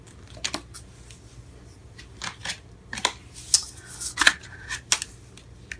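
Tarot cards being shuffled by hand, a series of sharp riffling and snapping bursts at irregular intervals, close and fairly loud with quiet gaps between the flurries.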